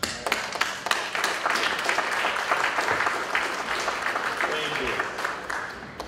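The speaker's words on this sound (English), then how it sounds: "that wasn't necessarily a lot of applause" Audience applause at a gathering, a sustained bed of many people clapping with scattered louder claps nearby and faint voices mixed in.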